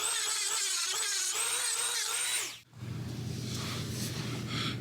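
A rotary tool bit grinds the sharp edges of an eBay turbo manifold for a Spec-V, a steady high whine for over two seconds that cuts off abruptly, followed by a lower, rougher continuous grinding noise close by.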